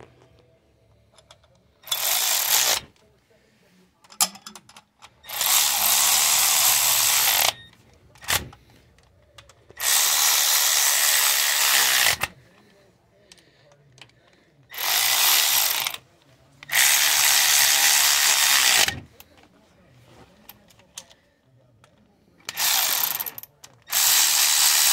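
A ratchet tightens bolts on billet LS exhaust cover plates, giving loud, close bursts of rapid clicking that repeat several times, separated by brief pauses.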